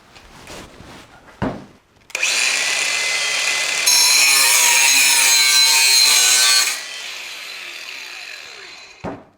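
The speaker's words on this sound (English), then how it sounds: "Okay, so grinder." An angle grinder runs in a workshop where stainless steel pipe is on hand, spinning up after a few knocks into a loud, steady high whine that grows harsher midway, then drops in intensity and cuts off near the end.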